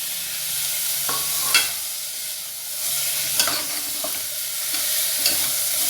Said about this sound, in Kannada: ಒಂದು ನಿಮಿಷ ಇದನ್ನು ಬಾಡಿಸ್ಕೊಳ್ಳೋದು ಈಗ